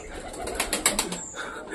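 Pigeons in a home loft, including a pink-and-yellow bird, give soft cooing calls that rise in a short cluster midway, close and moderately loud over faint room noise.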